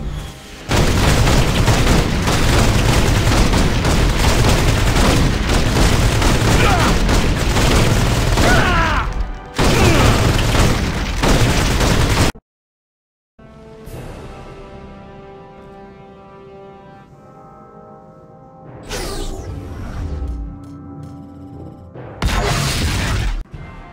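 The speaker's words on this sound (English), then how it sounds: "Airstrike commencing." Airstrike explosions in the video game Marvel Heroes 2015 arrive as a long, loud barrage of booming blasts and crackling fire, then a sudden drop to silence followed by lighter mechanical rumbles and a final burst.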